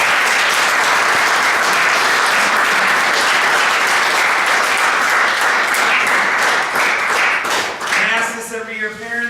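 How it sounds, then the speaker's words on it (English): A football banquet crowd gives loud, sustained applause for the players' parents, with dense clapping filling the room before it begins to thin out at the end. "you need to clap for your parents."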